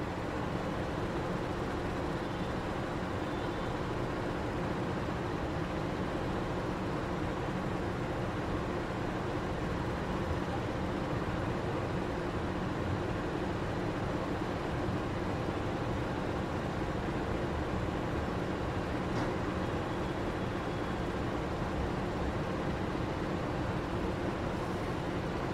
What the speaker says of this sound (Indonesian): kereta api Argo Bromo Anggrek diberangkatkan dari stasiun Gambir